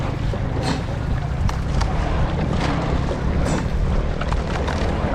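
Wind gusting across open water during rowing practice, with a steady broadband rush and low rumble, occasional sharper gusts and faint splashes, close to the microphone and with no talking.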